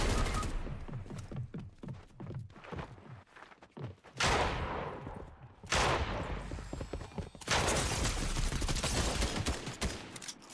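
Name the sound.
gunfire in a Fortnite Chapter 2 video game match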